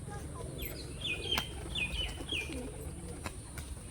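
A pigeon, one of a kept pair of fancy pigeons, gives soft repeated coos against a noisy outdoor background, with faint chirps and a few sharp clicks, no clear talk.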